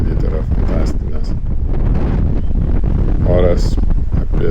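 Strong wind gusting over coastal sand dunes, heavy rumbling buffeting against the microphone throughout, with a voice briefly audible beneath the roar.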